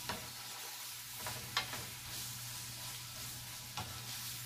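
Onions stirred and frying in a pan for Mexican beef fajitas, a soft steady sizzle with a low hum beneath and a few faint scrapes and clicks of stirring.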